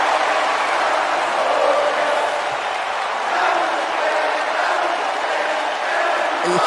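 A wrestling crowd at an Empire Wrestling show roars and cheers in a dense, steady wash of noise that swells slightly at times, with a commentator's voice running over it.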